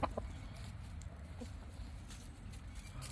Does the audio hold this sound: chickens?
yes